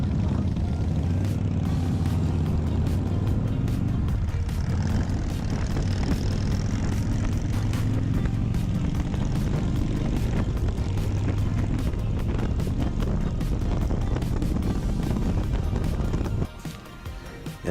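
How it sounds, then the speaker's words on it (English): Motorcycles racing at full throttle near Ray Hubbard Lake in Rockwall, a loud continuous engine roar that rises and holds steady for most of the run before cutting off abruptly near the end. "we're gonna try and race into full throttle to see whose bike has more power"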